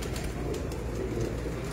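A slate-coloured female pigeon from a breeder's loft coos in a steady, low, throaty murmur that runs throughout without pause, close by and fairly quiet, with no voices.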